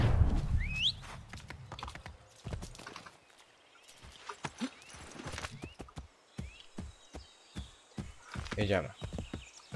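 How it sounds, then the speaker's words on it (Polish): Horse hooves clip-clopping in Assassin's Creed III, irregular thuds and steps near and fairly soft, with a brief whinny early on and a voice speaking over part of it. "Dawać konia."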